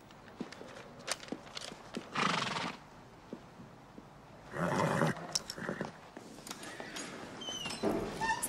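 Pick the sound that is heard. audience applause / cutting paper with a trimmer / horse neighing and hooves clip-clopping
horse neighing and hooves clip-clopping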